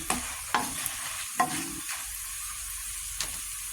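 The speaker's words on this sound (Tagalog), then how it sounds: "malapit nang maluto ang french fries ni Piggy" Homemade french fries frying in hot oil with a constant close sizzle, broken by several sharp knocks and scrapes from stirring the pan.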